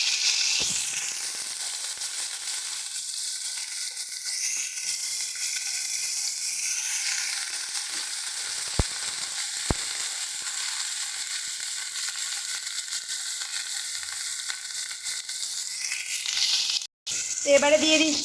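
Cumin seeds and onion-garlic paste sizzle loudly in hot oil for a fish curry, a steady, close frying hiss with occasional stirring clinks.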